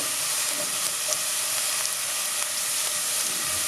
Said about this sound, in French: on met 1 cuillère à soupe d'huile et puis on met les carottes et les cuire pendant 1 minute 30